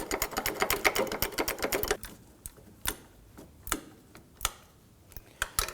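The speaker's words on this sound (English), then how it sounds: "We'll go ahead and run that bolt in." A ratchet rapidly clicking as a bolt is run in on a 2008-2011 Ford Focus engine torque strut mount, a fast even run of ticks that slows to sparse, separate clicks.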